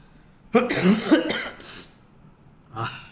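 A person with a cold gives a harsh burst of two or three close, loud coughs, then a shorter, softer cough after a brief pause.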